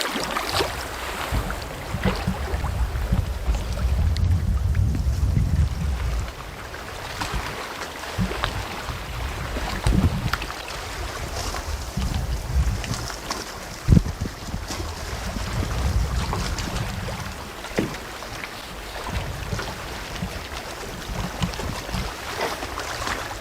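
Strong wind blows steadily around a solo canoe in Algonquin Park, a continuous rough roar and buffeting against the microphone with gusts rising and falling, no voices.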